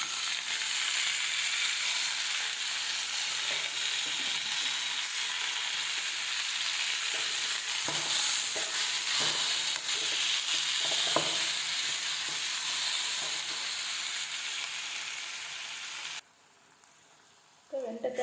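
Tomatoes sauté in a pan for a fried okra kuzhambu, with a loud, steady sizzle and repeated stirring scrapes up close. Near the end the sizzle cuts out abruptly into quiet.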